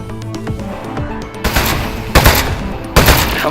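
Desk gun firing in the video game Aperture Desk Job: three loud bursts of shots, the first about halfway through and the others following at even intervals, over game music.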